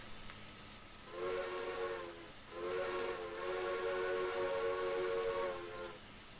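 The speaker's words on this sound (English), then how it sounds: "let me blow the horn" A train horn blown in the Minecraft rail mod Immersive Railroading sounds in two harmonic blasts, a short one and then a longer sustained one, over a steady background hiss.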